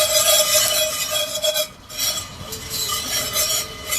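Coffee beans being roasted on a kamado grill are stirred with a rough scraping and rasping, a loud close-up shuffle that pauses briefly midway before resuming.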